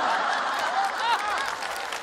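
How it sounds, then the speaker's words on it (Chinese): Studio audience applause mixed with chuckles and murmuring from a Chinese sitcom crowd, a steady, dense patter that holds at an even level for about two seconds. "此处有雷鸣般的掌声"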